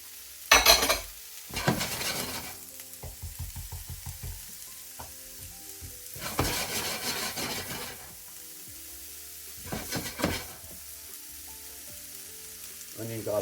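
Onion and garlic fry in a traditional clay pot, with bursts of sizzling and clattering stirring between quieter stretches of low crackle and a few light knocks, heard up close without speech.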